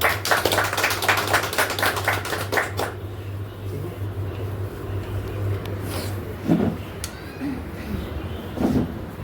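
A group at a weekly business meeting claps in a quick burst of loud, rhythmic hand claps for about three seconds, then it drops to room murmur and scattered bumps.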